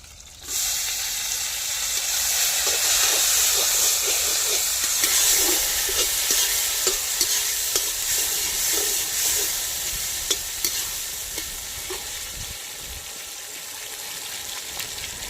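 Tomatoes hit hot oil for a jilebi fish curry, giving a steady close sizzle with repeated scraping stirs of a ladle against the pan, gradually settling toward the end.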